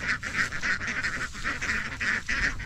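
A flock of domestic ducks being herded along, their quacking rising in repeated overlapping bursts, close and fairly steady throughout.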